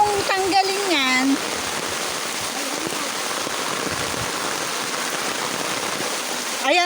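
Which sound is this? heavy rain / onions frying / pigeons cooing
heavy rain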